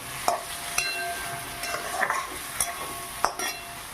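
Jackfruit curry stirred in a pan, a quiet simmering sizzle with a handful of sharp clinks and scrapes of the spoon against the metal at irregular moments, close by, no voices.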